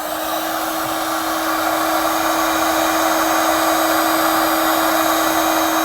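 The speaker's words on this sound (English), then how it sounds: "we'll use a heat gun to shrink down our butt connectors" A heat gun blows steadily to shrink butt connectors on trailer wiring for a Torflex lift kit on a 2018 Forest River Rockwood Mini Lite trailer. The whir is loud and continuous with a constant tonal hum and no talking.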